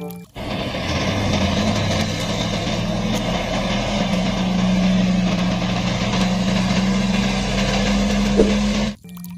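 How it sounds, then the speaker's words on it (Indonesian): A toy container truck gives off a steady electronic engine rumble with a faint whine, playing continuously at close range and stopping abruptly at the end. "Truk kontainer."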